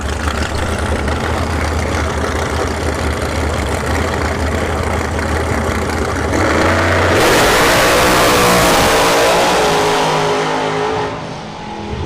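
Drag racing cars make a pass down the strip at Bradenton Motorsports Park, a loud sustained engine roar that builds and surges as the cars launch and accelerate, then tapers slightly near the end.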